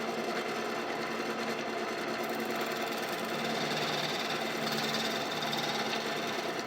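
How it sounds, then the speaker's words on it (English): A wood lathe spins a resin and root ball turning blank with a steady, fairly quiet mechanical hum and faint rhythmic vibration, running continuously without any voices. "So I guess I'll just try to put this on the lathe, turn this back until I get to wood"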